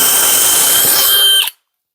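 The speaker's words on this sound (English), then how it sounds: "This is a treated 2x8 on drill setting, 3rd gear, and we'll just see this thing just flies through it." A DeWalt 20V XR hammer drill on drill setting in third gear bores through treated 2x8 lumber, a loud, steady whining drone that holds for about a second and a half, then cuts off abruptly into silence.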